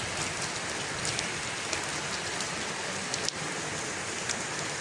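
Heavy rain falls continuously, a thick uniform patter and hiss with occasional louder drops, steady from start to finish.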